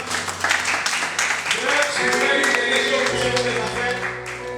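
A church congregation at a gospel business breakfast in Togo applauds to acclaim the Lord, with dense rapid clapping throughout and voices and talk mixed in over it.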